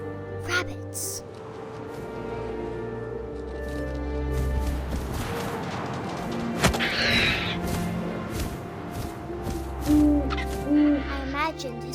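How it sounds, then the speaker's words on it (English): An owl hoots in What Remains of Edith Finch, set against wind and layered game ambience with musical tones, while a voice narrates over much of it. "And suddenly, I was an owl."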